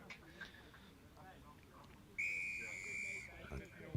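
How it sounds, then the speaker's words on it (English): A referee's whistle at a schools rugby kickoff gives one shrill blast lasting about a second, standing clearly above faint crowd noise and a commentator's voice. "A double blast of the whistle from the referee, and away we go."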